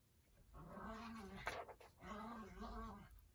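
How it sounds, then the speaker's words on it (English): A puppy whimpering and whining in two drawn-out, rising and falling cries with panting breath between them, close and fairly quiet. "Silly puppy's having a fight over there."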